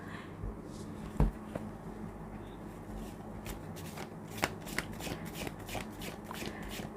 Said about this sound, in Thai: เดี๋ยวอาจารย์จะ ทำการสับไพ่เพื่อเปิดดวงของท่านผู้ชมนะคะ